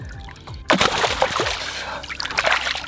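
A northern pike, hooked while backwater fishing, thrashes at the surface. After a quiet moment there is one sudden close splash, followed by sloshing and dripping water.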